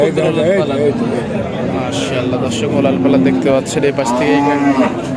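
A big, high-quality dairy cow at the large Aronkola cattle market moos a few times, low and fairly close, beneath continuous nearby talk and market chatter.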